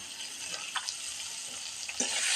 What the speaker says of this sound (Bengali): এই বেগুনগুলোকে আমি একটু লাল লাল করে ভেজে নেবো